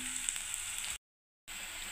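Onion fries with carrot, beans and chilli in a pan, a faint even sizzle that drops out briefly to silence before resuming, with no talk.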